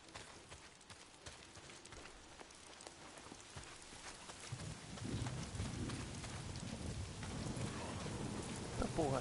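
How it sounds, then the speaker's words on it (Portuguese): Light rain falls steadily in the Days Gone game world, a soft constant patter that swells louder and fuller midway through, with no talk over it. "Chuva fina."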